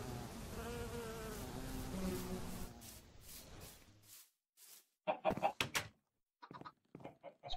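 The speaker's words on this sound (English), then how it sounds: "This place is really noisy now with chickens and bees and stuff like that." Chickens and buzzing bees sound in the video game Wanderlust Reloaded, with a continuous insect drone and clucking for the first few seconds, then silence, then short bursts of game sound effects.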